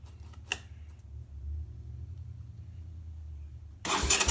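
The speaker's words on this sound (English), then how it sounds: "Let's see if this bike wants to start." Honda ATC 200M ATV fitted with a Chinese carburetor, its engine cranking with a low rumble before abruptly catching into a loud, rough roar near the end, close by, with no talk.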